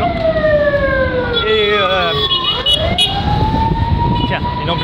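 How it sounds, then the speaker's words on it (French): An ambulance siren from Sylvanus Olympio hospital passes nearby, its wailing tones sweeping and shifting in pitch as it goes by over traffic rumble, with someone briefly speaking. "tiens, une ambulance de Sylvanus-Olympio qui passe en moment où je parle"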